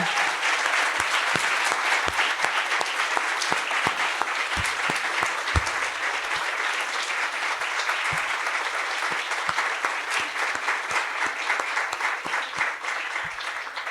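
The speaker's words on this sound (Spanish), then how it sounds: "yo sí les pido a ustedes un aplauso muy fuerte" A large university audience applauds steadily and loudly, the clapping sustained for the whole stretch without letting up.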